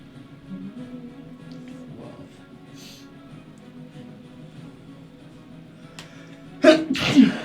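A single sharp sneeze bursts out near the end after a long stretch of low room noise, close and much louder than the quiet background.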